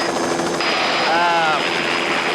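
A helicopter flies and lands near remote Anasazi canyon ruins in Arizona, its engine and rotor a loud, steady broadband roar filling the whole clip with a brief rising whine near the middle.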